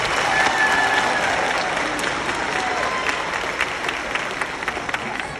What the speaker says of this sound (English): Parents, staff, let's give these graduates a round of applause.